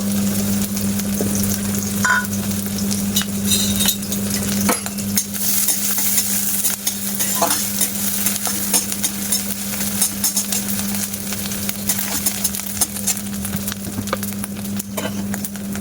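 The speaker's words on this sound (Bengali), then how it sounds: "রসুন কুচানো, কাঁচা লঙ্কা কুচানো আর আদা কুচানো, এগুলো দিয়ে মশলাটা একটু ভেজে নেব" Chopped garlic, green chili and ginger sizzle in oil as the spice mix is fried and stirred, a steady crackling hiss with frequent clicks and scrapes of the spatula over a low constant hum, no voices.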